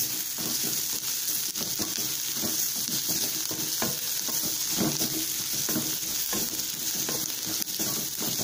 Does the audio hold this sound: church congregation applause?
no